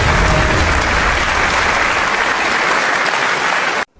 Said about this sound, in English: a round of applause for the Executive President of the BUA Group